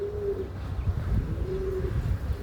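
Pigeons with dark purple feet coo in two drawn-out phrases over a low rumbling background, fairly close and steady, with no talk.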